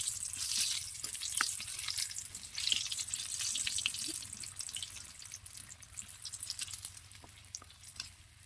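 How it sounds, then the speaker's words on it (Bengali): Vegetable rolls fry in hot oil until golden brown, giving a steady, close sizzle with scattered crackles and pops that runs for the whole stretch with no talking. "এবার আমি গরম তেলে রোলগুলোকে ভেজে নিব।"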